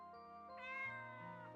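Cat meowing in the horror video game Corpse Party, a single short, bright mew with a clear tonal pitch, heard quietly on its own.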